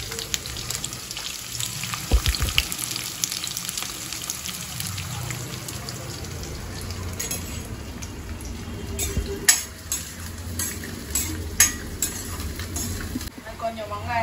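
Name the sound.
onions and garlic frying in a pan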